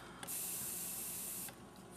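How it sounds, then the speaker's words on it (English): An Iwata Smart Jet airbrush compressor with auto shut-off starts up, giving a loud, steady hiss of rushing air for just over a second before cutting off abruptly, with faint room noise on either side. "That's my Iwata airbrush Smart Jet."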